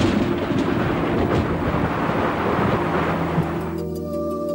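Violent thunderstorm over the Kimberley, a loud, continuous rumbling roar that fills the scene, easing near the end as a steadier droning hum comes through.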